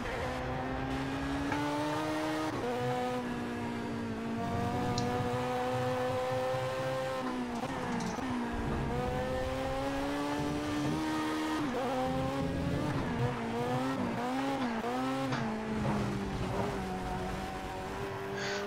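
An Audi race car in Project CARS, heard from outside on a track, its engine droning and revving steadily with rising and falling pitch through gear changes, plus occasional tire squeal.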